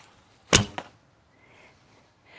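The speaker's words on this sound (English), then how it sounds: "So you hear the difference when I shoot this bow" A Korean traditional sport bow is shot, giving one sharp string release and snap followed by a quick second twang, then near silence with faint room noise.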